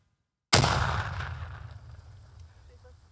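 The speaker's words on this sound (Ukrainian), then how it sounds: "сапери, які працюють разом з групою, підривають знайдену у полі вибухівку" After a moment of silence, a single heavy blast booms out suddenly as sappers detonate explosives found in a field, then its rumble slowly fades away over several seconds.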